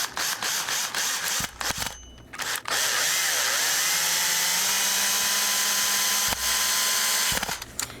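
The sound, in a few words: power drill driving screw through ceiling for skylight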